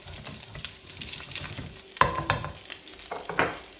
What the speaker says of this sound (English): Now I'm going to scrape up the bits out of the bottom of this skillet.